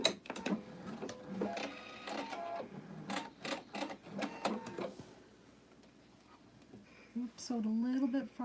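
A sewing machine fitted with a walking foot stitches quilt strips in short mechanical bursts with pauses between them, close by, and someone speaks briefly near the end.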